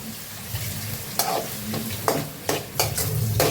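A curry cooking on the stove on a low flame, a soft steady sizzle with occasional scraping stirs and utensil knocks against the pan, close by and with no talk.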